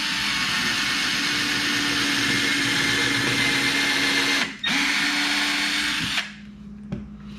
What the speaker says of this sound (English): Let's drill into this 4x4